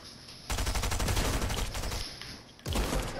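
Pistol gunfire in a video game rattles out in rapid, loud bursts, one long volley followed by a short pause and then another burst.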